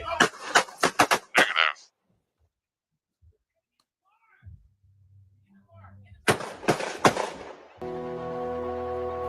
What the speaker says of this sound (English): Sounded around 6 shots.